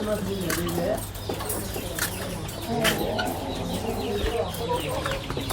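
Country chickens on a farm cluck and squawk continuously, a busy overlapping chorus of many birds close by, with a low steady hum and murmuring voices underneath.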